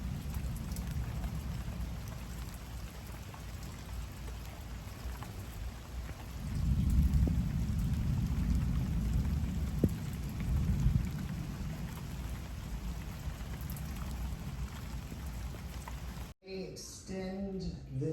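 Steady heavy rain pours through a thunderstorm during a tornado warning, with a low rumble of thunder swelling in the middle; the roar cuts off near the end, where a voice speaks.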